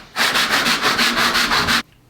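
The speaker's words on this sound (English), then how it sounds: "I'm just going to take a sanding block and I'm going to rough up the surface a little bit more in preparation of the tape" Sanding block roughing up a plaster wall surface before taping a crack: about ten quick, rhythmic back-and-forth rasping strokes, close and loud, then abrupt silence.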